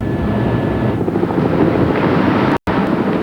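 Steady roar of a helicopter engine mixed with heavy wind noise near Mount Cook, New Zealand, continuous and fairly loud throughout, with a brief cut near the end.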